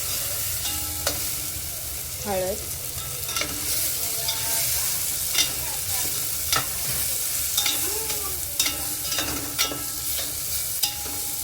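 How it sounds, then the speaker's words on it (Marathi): A tempering of turmeric and asafoetida sautés in a pan over a low flame, with a steady quiet sizzle, repeated scraping stirs and a few spoon clinks. "चांगलं परतून घेऊया बारीक गॅसवर."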